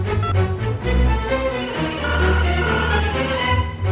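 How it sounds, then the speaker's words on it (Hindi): A telephone rings in a tense domestic setting, a steady electronic ringtone with strong low tonal pulses repeating over about four seconds, fairly loud and alone with no talk over it. "जैसे कोई फोन की रिंग बज रही हो"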